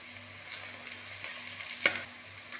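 Onions sauté in a pan with salt, producing a faint, soft sizzle with light stirring scrapes and one sharper clink near the end, with no talking.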